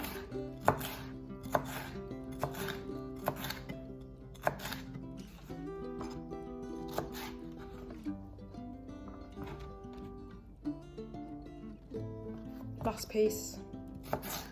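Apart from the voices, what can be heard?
knife cutting bell pepper pieces in half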